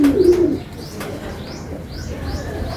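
Pigeons cooing outdoors, a low throaty coo up front followed by several softer repeated calls at a steady rhythm, moderately close.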